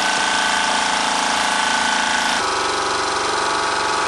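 A Wilesco D22 twin-cylinder toy steam engine fired by Sterno runs loud and close, chuffing in a fast steady rhythm that shifts slightly in pitch partway through, with no voices.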